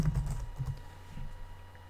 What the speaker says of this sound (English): I'm gonna type in a URL that I know doesn't exist.